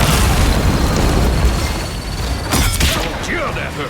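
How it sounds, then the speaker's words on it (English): Explosive blasts from a spider bomb in the video game Marvel Rivals, a loud dense boom with sharp bursts around the middle, layered over continuous game noise and effects. "Spider bomb!"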